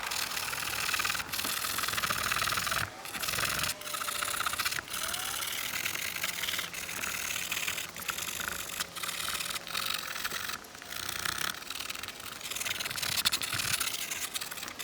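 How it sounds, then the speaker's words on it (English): A wire brush scrubs the rear bumper of a Subaru BRZ, giving a steady, close, gritty rasping with short regular breaks between strokes and no voices. "I'm just gonna go at it with this wire brush for a bit"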